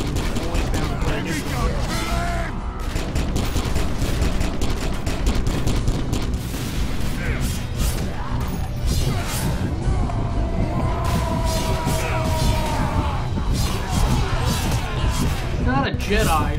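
Sustained, loud gunfire and explosions from the video game Warhammer 40k: Kill Team rattle on without a break, while someone talks over the battle.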